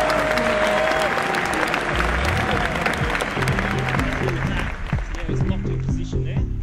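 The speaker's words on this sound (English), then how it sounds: "The crowd goes wild." A crowd at a cross-training enduro trick-riding event bursts into loud, sustained cheering and applause, dense and close, fading slightly toward the end.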